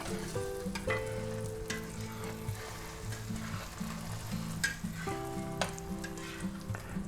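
Eggs being soft scrambled into ribbons in a hot cast iron pan over medium-low heat give a soft, continuous sizzle with gentle stirring and scraping, while steady tonal hums run underneath.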